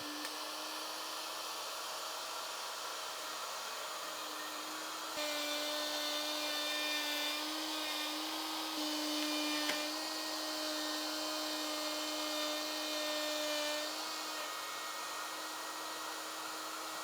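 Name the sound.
wood router cutting quadrant slot in multiple passes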